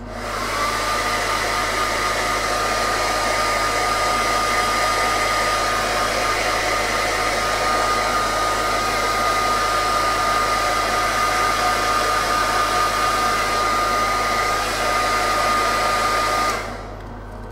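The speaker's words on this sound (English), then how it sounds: "So I'm just going to hit this with a hairdryer." A hair dryer blowing steadily at close range, a loud constant whir and rush of air that cuts off near the end.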